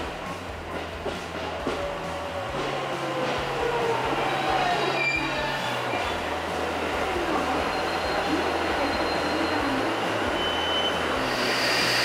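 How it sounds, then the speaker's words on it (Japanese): An out-of-service train pulls in at platform 11 of Osaka Station, wheels squealing and grinding steadily as it rolls in, with a loud, sustained rumble building toward the end. "この時間なんで回送列車も来てますね"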